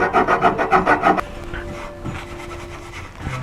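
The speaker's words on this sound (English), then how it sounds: "So what I do is I have this file, and it's slightly less coarse than a rasp." A file slightly finer than a rasp shapes a wooden leg for a curved blockfront lowboy, giving about eight quick rhythmic rasping strokes up close, then softer scraping and handling noises.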